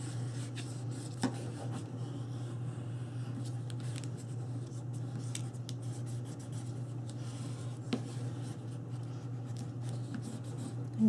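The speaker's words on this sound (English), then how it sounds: "And then just burnish along as you fold it." A tool is rubbed along a paper fold on a paper bag mini album, producing a continuous faint scraping with occasional small clicks over a steady low hum; no voice is heard.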